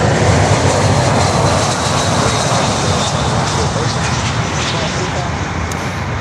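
A Volaris airliner passes at Miami airport, producing a loud, continuous broadband engine roar that stays steady and near, with a voice speaking over it.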